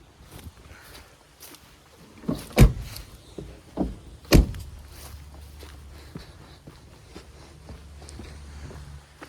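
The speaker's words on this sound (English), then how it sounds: "let me close these doors first because I don't want that buzzer to go crazy on me" Doors of a 1980s Mercedes 190E 2.6 slam shut with two sharp, close thuds a couple of seconds apart, amid lighter rustling and handling sounds inside the car.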